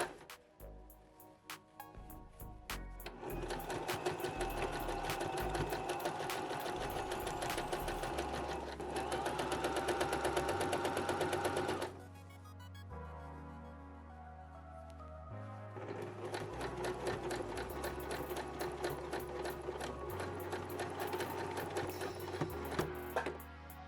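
A small portable sewing machine stitches through fabric in steady, rapid mechanical runs, loud and close, with a brief slower pause partway through before resuming at full speed; no one speaks.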